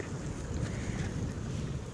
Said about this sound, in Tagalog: Oh, mahangin.